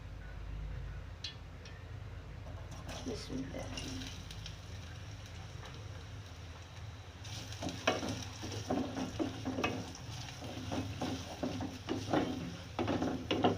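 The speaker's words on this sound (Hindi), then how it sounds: "अब मैं इसमें ये प्याज डाल दूँगी जो मैंने काट के रखी थी।" Chopped onions frying in a pan for chicken badami korma, a low steady sizzle that grows busier and louder midway as the onions go in, with intermittent scraping stirs and clatter.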